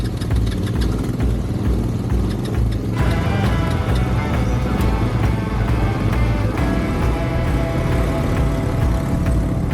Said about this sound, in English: as we revved up our ATVs again